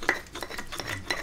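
Sambal ground by hand in an Indonesian stone mortar (ulek) for soto ayam chicken noodle soup, giving a few short, close scraping clinks and rubs of stone on stone with no talk.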